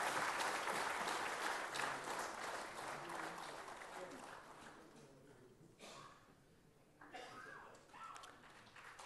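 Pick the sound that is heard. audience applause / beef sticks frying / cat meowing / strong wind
audience applause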